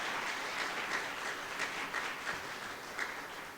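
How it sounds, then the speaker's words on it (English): At a statewide MLK oratorical contest for primary and intermediate students, the audience applauds the contestants with a soft, even wash of clapping that sounds distant and continues without a break. "let's be sure to give another round of applause to our contestants this morning"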